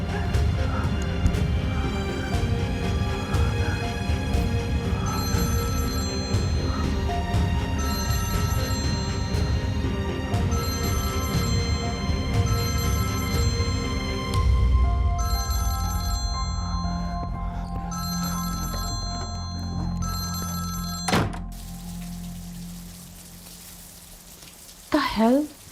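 A telephone rings unanswered in repeated bursts of bell tones over a dense musical backdrop. The rings come to a stop about two thirds of the way through, and a voice speaks briefly afterward.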